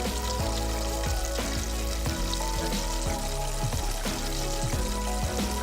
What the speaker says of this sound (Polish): I smażymy. 4 minutki